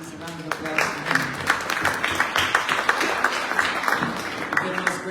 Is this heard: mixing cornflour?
no